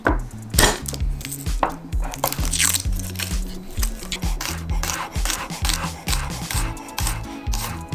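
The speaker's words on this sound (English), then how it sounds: "We will start with cutting one garlic." A knife chops a single garlic clove on a board in quick, repeated crisp knocks, close and loud, as a vegan mayo is prepared.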